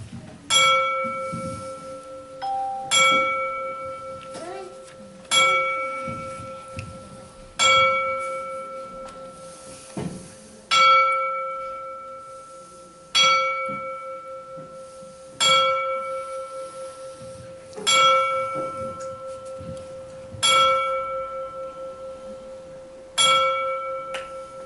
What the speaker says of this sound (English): we'd like to honor our fallen brothers with a 10-bell salute